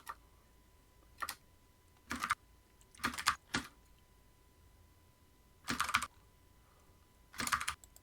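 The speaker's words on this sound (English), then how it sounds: "I'm typing notes into my document here" Short bursts of typing on a computer keyboard, several quick clusters of key clicks separated by pauses, close and fairly quiet in a room with no talk.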